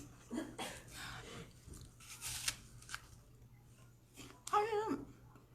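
Someone munches crunchy, sour pickled food, with scattered close crisp bites and chewing crunches between pauses, one louder burst near the end, and soft breathing in a quiet room.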